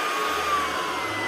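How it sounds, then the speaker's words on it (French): A Proscenic P11 cordless stick vacuum runs steadily on a rug, its motor whine holding a constant high pitch with a smooth airflow rush, loud and close with no other sounds. "dès qu'on arrive sur un tapis, l'aspirateur évolue dans son aspiration"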